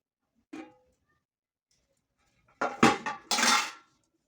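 Metal pot lid fetched and handled on a balcony beside a wood stove: a short clank, a pause, then a loud cluster of ringing metal knocks and scrapes close by.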